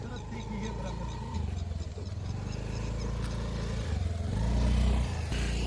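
Motorcycles from a group bike ride near Kadana rumble past, engine drone rising and falling and swelling louder toward the end as bikes approach and pass, with faint background voices.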